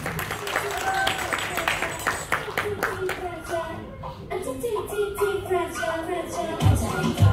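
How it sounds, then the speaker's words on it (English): Applause from guests at an appreciation party during a best-dressed award, a run of brisk hand claps that keeps going with voices talking over it. "Ladies and gentlemen, big, big round of applause."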